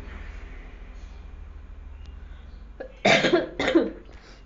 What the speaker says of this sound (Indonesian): ibu pause dulu ya, ibu mau batuk